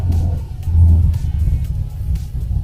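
Manual car engine idling and lightly revving as the car reverses slowly out of a garage onto a main road, a steady close low rumble with a brief swell of throttle partway through.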